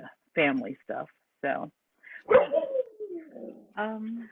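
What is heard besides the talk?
dog barking during a video call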